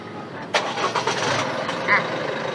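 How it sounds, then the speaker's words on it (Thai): An Isuzu MU-X engine, started by remote, cranks and catches, then settles into a low idle, heard from close by. "กดสตาร์ทเคื่อระยะไกลได้เลย"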